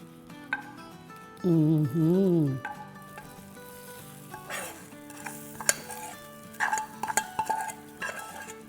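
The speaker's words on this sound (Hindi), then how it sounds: "और अब ये तड़का डालेंगे।" Spices for a butter tadka crackle and sizzle as they hit hot oil, with scattered clinks of a metal utensil against a pan, after a brief warbling tone.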